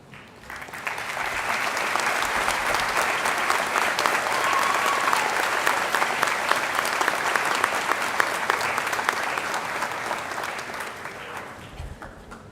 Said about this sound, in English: will Alexander School employees please stand so we can applaud you for all you've done